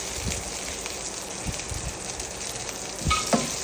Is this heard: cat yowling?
no